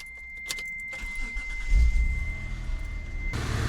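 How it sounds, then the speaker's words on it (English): A car engine with a leaking exhaust flange is started from inside the cabin: a click and brief key rattle, the starter turning over, then the engine catching into a rough, steady idle close by. "I'm in the car right now. Let me start it up for you."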